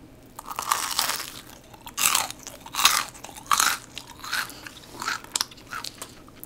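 Crunchy fried chicken drumstick and thigh is bitten and chewed close up, with a series of loud crisp crunches repeating every second or so and no talk over them.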